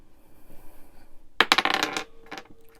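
Dice rolling onto a hard surface during a cash-stuffing budget session, a burst of sharp rattling clatters that tumbles for about half a second and ends with a few lighter knocks, fairly close and alone.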